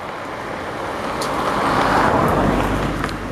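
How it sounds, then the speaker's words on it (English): A car draws closer along an outdoor road lined with plants, a broadband roadway rumble that swells gradually to a peak near the middle and stays fairly loud, with no talk over it. "Oh, there's a car coming."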